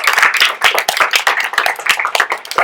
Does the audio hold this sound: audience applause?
yes